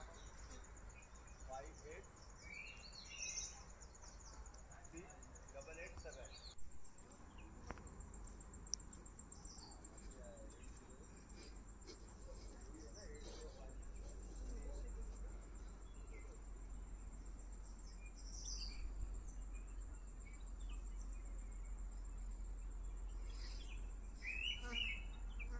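Outdoors, soft bird chirps and calls come and go over a constant high insect drone and a low background rumble, all faint and distant.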